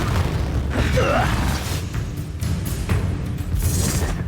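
Confringo fire spells explode in Hogwarts Legacy on Nintendo Switch, with a series of loud booming bursts and crackling blasts, while a voice briefly sounds through the din.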